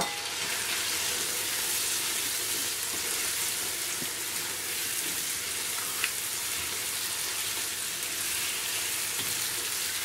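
Cauliflower and tomatoes sizzle and fry in a pan over a full flame, an even, continuous crackling hiss with no voices.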